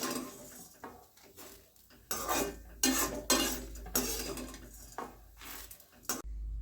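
A spoon scrapes and taps against a pan while roasted urad dal is scooped out during Chettinad curry leaf powder preparation, giving a series of close, uneven scraping strokes with brief pauses.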